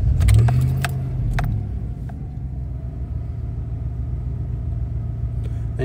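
A 2012 Chevy Silverado engine cranks and catches with a low rising whir, then settles into a steady close idle rumble, with faint key jingles and clicks at the start.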